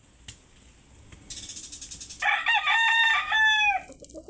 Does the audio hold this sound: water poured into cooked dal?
no